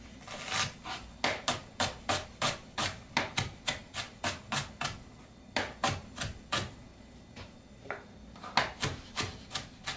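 A knife chops eggplant into small cubes on a cutting board, each stroke a sharp knock in quick regular runs of about a dozen, with brief pauses between runs, close and clear with no voices.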